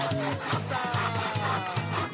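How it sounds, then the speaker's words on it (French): Steady back-and-forth rasp of a hand saw biting through wood, about five strokes in an even rhythm, close and fairly loud. "Et tu tires la scie et tu respires et tu repars de plus bas."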